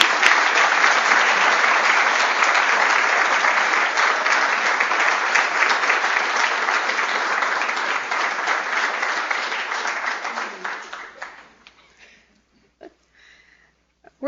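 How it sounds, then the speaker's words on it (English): An audience applauds graduates at a university department of medicine awards ceremony, dense sustained clapping from a large crowd that fades out near the end, leaving near silence. "let's give these guys a big round of applause."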